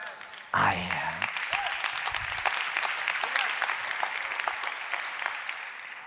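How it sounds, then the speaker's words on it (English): A church congregation bursts into sudden applause that swells and holds as a dense, continuous clapping, with a brief spoken voice near the start before the clapping takes over. "I appreciate you clapping"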